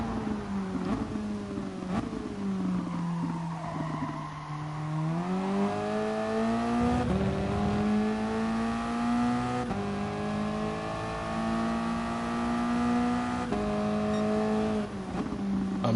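A Toyota GT race car at Fuji circuit, running on a worn front left tyre, drones steadily at close range, its engine pitch dipping and climbing through gear changes and throttle lifts.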